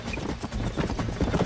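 Horse hooves clip-clop steadily in a Western video game, with several horses trotting in a busy, loud rhythm and no speech over them.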